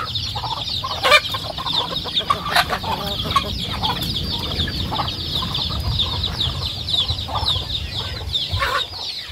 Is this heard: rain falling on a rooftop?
no